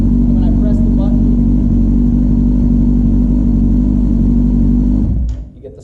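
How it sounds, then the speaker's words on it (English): A 2008–2010 Kawasaki ZX10R sport bike runs at a loud, steady idle close by, its deep engine drone holding evenly before cutting off near the end. "When you start the bike"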